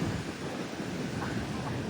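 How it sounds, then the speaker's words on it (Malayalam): Strong wind buffets the microphone as sea waves surge at a beach near a breakwater, a constant loud roar of moderate level with no distinct breaks. "ഭയങ്കര കാറ്റുണ്ട് കേട്ടോ."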